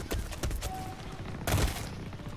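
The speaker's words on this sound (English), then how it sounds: "I love the submachine gun so much." Rapid bursts of submachine gun fire in the shooter game Blacklight: Retribution, a few quick volleys in short succession, fairly faint and with no talk over them.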